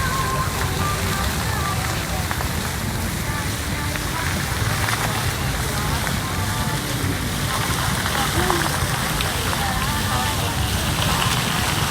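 Steady, dense rain patter fills the scene at close range, with a speaking voice faintly under the constant hiss.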